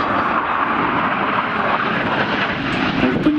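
Aero L-159 ALCA military jet making a low flyby at an air show in Čáslav, a loud, steady roaring jet engine filling the whole moment without talk.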